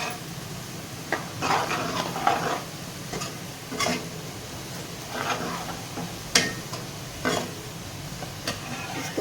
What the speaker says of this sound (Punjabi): ਪਿਆਜ਼ਾਂ ਨੂੰ ਚੰਗੀ ਤਰ੍ਹਾਂ ਭੁੰਨ ਲਗੇ ਜੀ